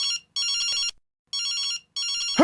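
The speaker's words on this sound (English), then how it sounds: "Whose phone is this?" A telephone rings in two loud, electronic double bursts separated by a pause, heard alone with no talk, ending in a brief swoop of another sound.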